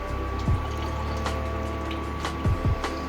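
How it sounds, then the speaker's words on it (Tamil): Milk pours into a cooking pot for paal payasam in a home kitchen, a soft continuous liquid stream with a few brief splashes and a steady background hum. "ஸோ இதில் வந்து நம்ம வந்து இப்போ பால் ஆட் பண்ணிக்கிறோம்."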